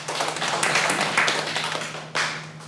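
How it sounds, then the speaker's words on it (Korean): Applause from a lecture audience on Korean history and leadership, a dense, steady wash of many hands clapping that holds throughout, with a brief louder swell near the end. "혹시 동의하시면 박수 좀 부탁드리세요."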